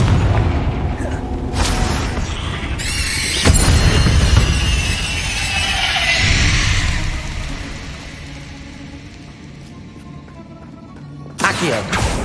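A loud Confringo fire spell blast in Hogwarts Legacy on PS5, with a heavy booming burst followed by a long roaring rumble and crackle that fades, then another sharp impact at the end.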